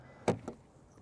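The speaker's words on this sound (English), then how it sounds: "So if we open up the side door over here" A 2020 Subaru Outback XT side door opens with a sharp latch click followed by a softer second thunk, close by and alone with no talking.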